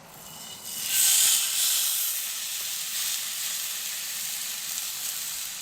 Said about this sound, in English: We're going to put the trout on there.